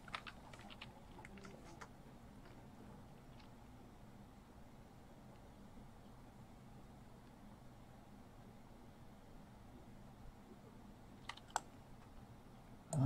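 Keyboard typing during a typing minigame in a capture-the-flag video game: quiet, steady key clicks run continuously for several seconds, with a few sharper presses near the end and a louder thump at the very close.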